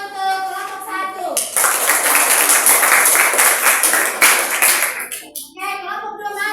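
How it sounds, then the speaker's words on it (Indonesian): A university classroom breaks into sustained clapping for a student group after its presentation, a loud, dense round lasting about four seconds. It is framed by a voice talking just before and just after. "Tepuk tangan untuk kelompok 1."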